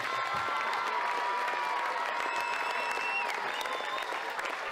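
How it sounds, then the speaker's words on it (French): An audience at a longue paume tournament applauds, a dense continuous clapping from many hands that holds steady throughout, with no voices standing out. "Pour la longue pomme, on applaudit"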